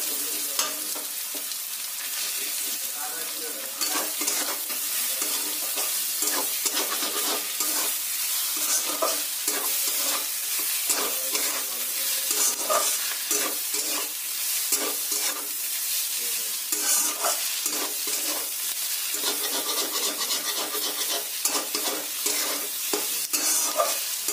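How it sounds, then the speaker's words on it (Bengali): Egg frying in a pan with a constant crackling sizzle and repeated scraping from stirring, close up, lasting throughout with no voices. "এবার ডিমটাকে একটু ভাজা ভাজা করে নিতে হবে।"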